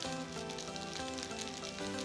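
Curry-powder-coated rice sizzles in a hot pan for a chana curry, a soft continuous crackle of frying heard up close without any talk.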